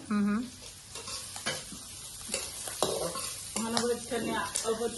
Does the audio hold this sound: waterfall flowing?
no